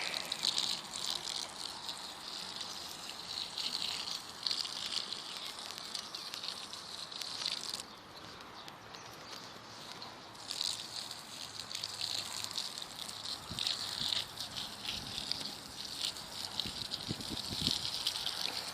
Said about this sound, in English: give each station a bit of a watering